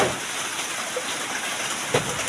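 Rain patters steadily in a constant wash of hiss, with a couple of slightly louder drops standing out.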